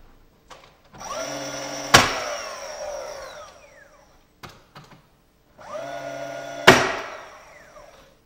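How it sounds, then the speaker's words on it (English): Trim pieces being nailed into place during trim carpentry: two sharp, loud nail shots about five seconds apart, each set within a whirring tool hum that swells up and then dies away. "I'm going to be nailing from both sides to try and kind of keep it centered up"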